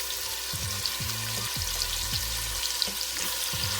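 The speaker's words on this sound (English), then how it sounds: "Now we're going to put that chicken in there and get that browned off." Chicken browning in a pot for chicken, shrimp and andouille sausage jambalaya, a steady close sizzle and crackle of frying with no talk.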